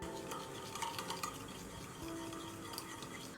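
A spoon stirs seasoned water with salt, white pepper, chicken bouillon and cumin in a bowl, making a faint, steady scraping and clinking that runs throughout.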